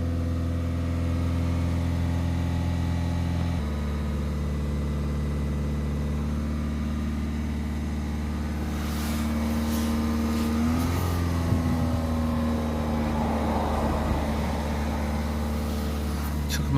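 Peugeot 308 1.6 HDi diesel engine with a P20E8 low urea (AdBlue) pressure fault holds steady at about 2,500 rpm, a continuous even drone heard close for the whole stretch, with a shift in tone partway through and faint clicks and rustling later.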